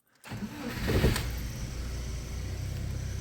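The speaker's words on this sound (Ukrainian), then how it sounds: "заводимо машину" A 2013 VAZ 2112 car with unstable idle revs: a short crank as the engine starts, a quick surge, then a steady close idle that settles and continues.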